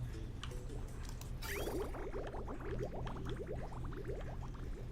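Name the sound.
water being pumped in video game Oxygen Not Included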